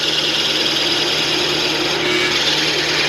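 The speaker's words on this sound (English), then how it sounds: "We're going to find out how good our drill press is" A steady, loud whir of a drill press runs continuously with a constant mechanical hum and no breaks.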